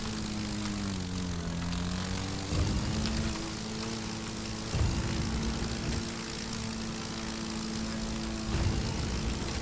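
Propeller airplane engine in The Crew 2 racing game, a steady droning hum with shifting pitch and brief louder surges every couple of seconds, heard alone.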